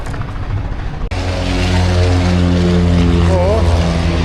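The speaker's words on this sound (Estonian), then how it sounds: "Triki lennukid läksid taevasse, nägid?" Stunt planes roar overhead at a country fair, a loud, sustained propeller-engine drone that rises abruptly and holds steady with a brief pitch sweep near the end.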